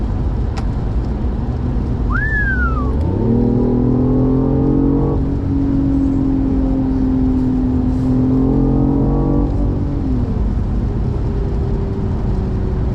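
A BMW i8 with a 1.5 engine revs in sports mode, its engine note climbing and settling in two loud, sustained swells with a brief higher whine early on, without speech.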